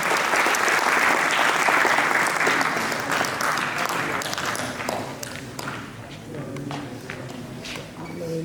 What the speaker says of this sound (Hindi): पर ताली बजा दीजिए हमारे अतिथियों के लिए।